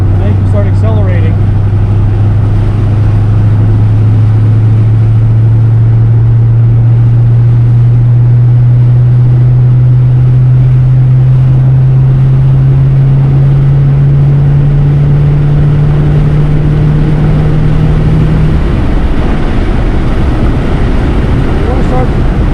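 2008 Ford Mustang Shelby GT500 accelerating hard around a race track at NJMP Lightning, a loud droning engine note climbing steadily in pitch for many seconds before easing off.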